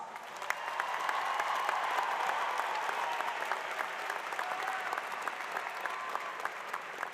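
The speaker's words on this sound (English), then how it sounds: "Everyone, please give your graduates a round of applause." A large audience claps for graduates at a College of Health and Human Services commencement ceremony, a sustained, fairly distant wash of applause in a big hall with a faint tonal hum beneath.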